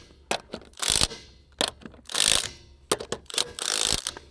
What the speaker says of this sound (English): what we're going to do is just go around one more time with the impact